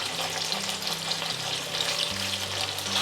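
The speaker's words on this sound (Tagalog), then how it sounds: "Prito lang na ako siya." Food fries in a pan with a dense, continuous crackling sizzle close by, steady throughout, while a low tonal hum runs underneath and nobody speaks.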